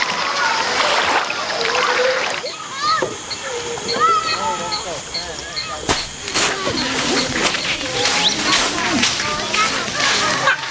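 People swim and splash in the Amazon river near a Kayapo village deep in the jungle, loud close sloshing and splatters of water that keep going, with voices talking over the splashing.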